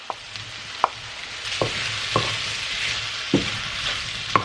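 Dumpling ingredients frying in a crowded pan until toasty, a continuous sizzle punctuated by sharp clicks of a utensil against the pan every half second or so.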